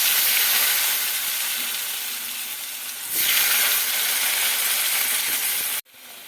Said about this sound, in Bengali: এই তেলের মধ্যে দিয়ে দেবো আলু আলুটা ভেজে নেবো